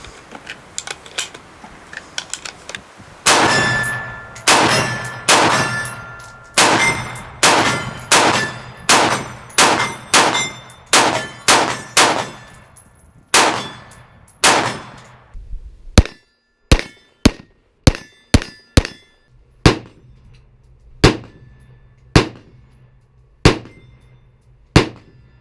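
An IWI Tavor rifle fitted with Talon grips firing .223 ammunition outdoors: a loud string of sharp, evenly spaced shots, then a pause and a second, quicker burst of single shots, no talk.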